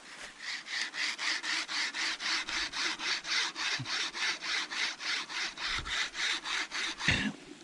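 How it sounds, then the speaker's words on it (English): Improvised bow saw made from a survival tin kit cutting through a wooden stick, a steady back-and-forth rasp of about twenty-five even strokes, close and alone with a faint knock near the end. "now I have more of a bow saw and it'll hold the tension, and then I can just saw."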